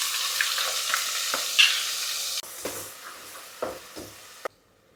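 Spices and pureed onion hitting a hot pan in a paya goat-trotter curry, a loud hissing sizzle that dies down, followed by a few sharp stirring scrapes and then near silence.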